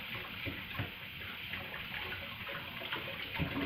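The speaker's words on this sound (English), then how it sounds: "Wash my hands." Water runs steadily from a kitchen tap while hands are washed, a continuous close splashing hiss with small irregular spatters and no talk over it.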